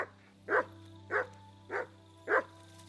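A dog in Kingdom Come: Deliverance II barks four times at a steady, evenly spaced rhythm, fairly close and clear over a low constant hum, with no talk.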